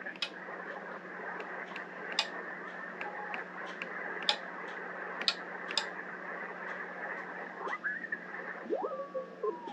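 A MAT Y200 automatic antenna tuner clicks intermittently as a radio is tuned through the band, sharp faint ticks scattered over a steady hiss of receiver noise, with a brief whistling tone near the end.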